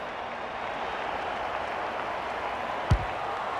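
Steady crowd roar fills an AFL 26 Australian football video game match, holding an even level throughout with one brief low thump near the end.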